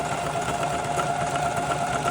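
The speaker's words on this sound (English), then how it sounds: "Turn on the sewing machine, I thread the machine, and just like that, it's time to sew." A domestic sewing machine runs steadily at close range, a continuous whirring motor hum with a fast, even mechanical patter and no pauses or voices.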